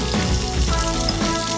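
Finely chopped onions, about a cup, hit hot oil with fennel seeds in a pan, giving a steady close hissing sizzle with crackling pops and no talk.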